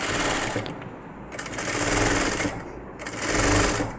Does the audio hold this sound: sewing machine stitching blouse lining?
yes